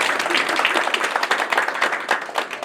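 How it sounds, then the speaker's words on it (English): A packed outdoor political rally crowd with Kenyan MP Mbui claps for itself, producing a brief burst of dense, lively applause at steady loudness with individual hand claps standing out. "Can you give yourselves a clap for that?"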